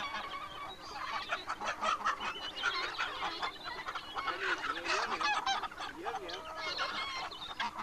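Farmyard fowl, chickens with goose-like honks, cluck and call almost continuously at a rural smallholding, several birds close by with overlapping squawks and clucks for the whole stretch.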